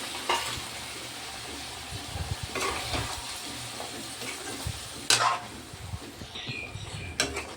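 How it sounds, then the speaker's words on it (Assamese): Mustard paste frying in a pan with ginger, a gentle steady sizzle under repeated stirring scrapes and a few sharper knocks of the spoon on the pan. "দি কিনে আৰু অকণমান ধুনীয়াকৈ ভাজি ল'ম"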